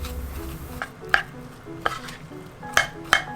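Cooked rice mixed by hand with dashi powder, soy sauce and mirin for onigiri: soft stirring and scraping in a bowl, broken by four or five sharp utensil clicks against the bowl's side, close and fairly quiet, no talking.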